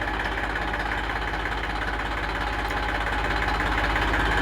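An Eicher 380 tractor with a 42 hp engine ticks over at idle, a steady low mechanical drone with a faint knocking pulse, close and unbroken with no talk.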